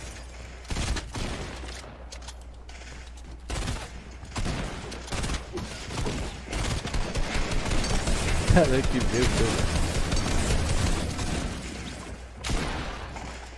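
Gunfire in the video game Fortnite, a rattle of repeated shots that builds through the middle of the match, with excited talking over much of it.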